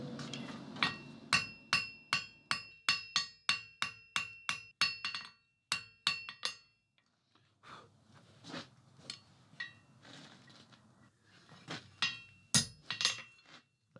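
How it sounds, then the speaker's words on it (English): Blacksmith hammering hot metal to forge a taper on a fireside tool, a fast steady run of ringing anvil blows, then a pause and further irregular strikes, loud and close with no talk. "I can now forge a bit of a taper."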